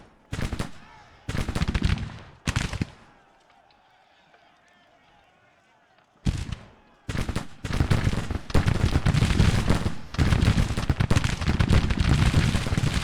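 Gunfire and artillery from a Civil War strategy game, with bursts of rapid crackling shots and booms separated by a quiet lull, then dense continuous firing toward the end.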